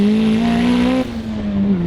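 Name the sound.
Hyundai Genesis Coupe 2.0T turbo blow-off valve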